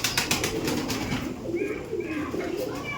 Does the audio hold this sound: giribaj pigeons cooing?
yes